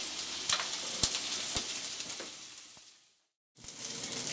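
Oil-coated onions cook uncovered in a pan, giving a steady close sizzle with a few sharp crackles, then the sound cuts out briefly before the frying noise resumes.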